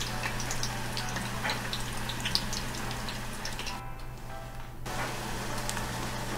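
French fries deep-frying in hot oil until reddish brown, a steady dense sizzle and bubbling with a constant low hum beneath, continuous and fairly close, no voices.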